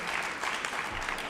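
An audience in a hall claps at a sports hall of fame induction ceremony, producing dense, even applause that carries through the whole short stretch at moderate volume.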